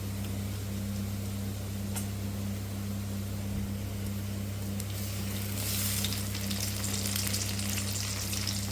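Tomatoes frying with golden-browned onions in a pan for Rayalaseema-style borugula uggani, a steady close sizzle with a constant low hum beneath it and no talking.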